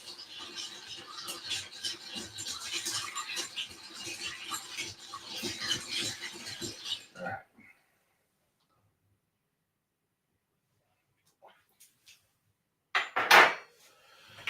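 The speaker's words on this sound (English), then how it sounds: "Stir that ice for about 20 seconds" Ice is stirred in a glass, a busy run of clinks and rattles for several seconds that stops abruptly, followed by near silence and one short, loud clatter near the end.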